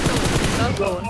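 Rapid automatic gunfire in the mobile battle-royale game PUBG Mobile, a dense, continuous loud burst of shots filling the whole moment near a vehicle, with no other sound standing out.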